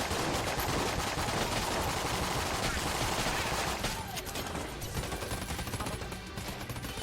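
Rapid gunfire in the video game Enter the Gungeon, a dense stream of shots that runs loud for about four seconds, then thins to sparser pops with a background melody.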